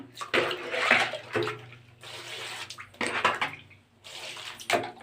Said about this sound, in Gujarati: તો હવે આ બધા કપડાં રહે ને આ બાલ્ટીમાં નાખી દઈએ